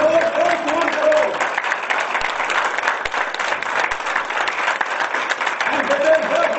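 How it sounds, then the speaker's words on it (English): Seminar audience at a motivational event breaks into sustained applause, a dense steady wash of many hands clapping that fills the whole stretch at even loudness. "I think all of you deserve a big round of applause for that."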